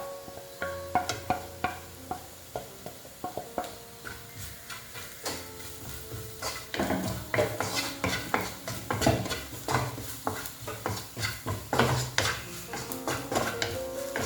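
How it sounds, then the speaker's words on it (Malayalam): Chilli powder, turmeric and garam masala stirred and roasted in a pan for paneer butter masala, with repeated spoon scrapes and clinks against the pan over a soft sizzle, growing busier and louder midway; no talking. "അതിൽ മുളക് പൊടി, മഞ്ഞൾപ്പൊടി, ഗരം മസാല, ഇത് 3 കൂടെ ഇട്ട് കൊടുത്ത് ഒന്ന് മൂപ്പിച്ചെടുക്കണം"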